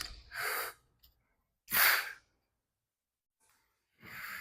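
A lifter takes a big bracing breath before a deadlift: three loud, forceful breaths close to the mic, spaced by silent gaps, each a sharp rush of air.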